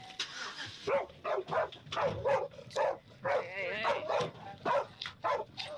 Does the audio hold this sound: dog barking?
yes